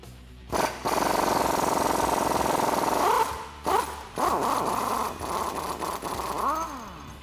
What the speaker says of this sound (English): I'm going to use a 21mm socket to remove that bolt.